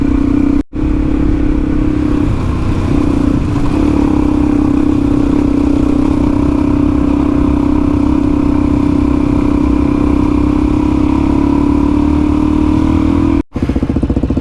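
A motorcycle engine, from a DRZ400E or Tenere 700 riding rough outback terrain, holds a loud, steady close drone with slight rises and clatter throughout.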